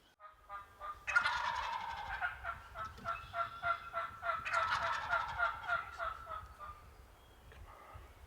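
Wild turkeys gobbling close by during a turkey hunt on a farm, with repeated loud bursts of gobbles at regular intervals and no talk.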